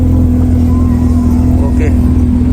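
A custom Nissan 350Z idles with a deep, loud rumbling engine drone close by at a gathering of supercars, while people talk over it.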